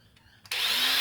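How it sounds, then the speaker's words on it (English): A small battery-powered zap gun, running on a low-power cordless drill battery, kicks in at fast speed after a couple of faint clicks, giving a bright, steady high whine close by. "I got a little battery powered zap gun"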